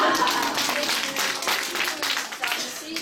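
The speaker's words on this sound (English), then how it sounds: "we have to give applause to ourselves because we are fantastic students" Students in a classroom clap for themselves, a steady dense patter of many hands that carries on for the whole stretch with no voices over it.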